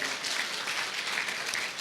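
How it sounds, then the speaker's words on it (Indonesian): Continuous dense applause from a church congregation during an Indonesian online worship service, a steady wash of many hands clapping with no talk over it. "Yang percaya berikan tepuk tangan dulu buat Allah kita"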